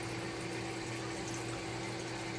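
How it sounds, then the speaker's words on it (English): Indoor decorative water fountains run beside a pump in a laundry room, giving a steady, even trickle and splash with a low mechanical hum underneath, constant and unbroken throughout. "That 3 fountains down there."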